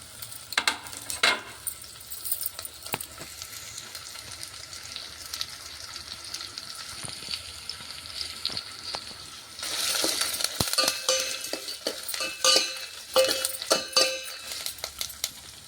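Sliced onions, dried red chillies and curry leaves sizzle in hot oil, a steady close frying hiss with occasional stirring clinks, growing louder and crackling harder about two-thirds through.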